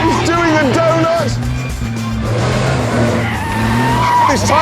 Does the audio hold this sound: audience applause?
no